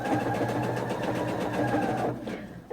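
A home sewing machine used for quilting runs steadily with a close, even mechanical whir and rapid needle rhythm, continuing for about two seconds before stopping.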